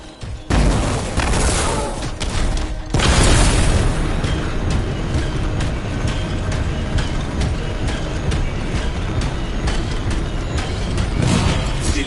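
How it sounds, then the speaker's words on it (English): A contained explosion in the video game Anthem on PS4, a loud, sustained rumbling boom with a second surge after a brief dip, then continuing rumble and crackle throughout. "It'll be a contained explosion."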